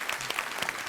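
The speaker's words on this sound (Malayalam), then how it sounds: "അപ്പൊ നല്ലൊരു കൈയടി കൂടെ." A studio audience on a Malayalam comedy show claps in a brief, dense burst of applause, close and steady for under a second.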